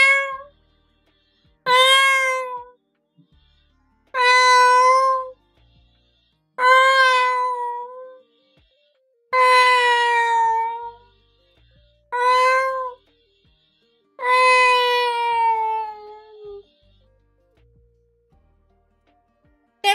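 A person imitating a cat, voicing seven separate drawn-out meows with short silent gaps between them, loud and close, a few rising into longer wailing calls.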